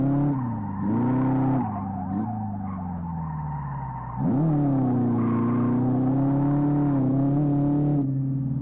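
A Chevette Tubarão 1.6 with a naturally aspirated engine drifts in the Live for Speed racing game, its engine droning steadily while the tires squeal in long sustained bursts, loud and close, broken by brief gaps.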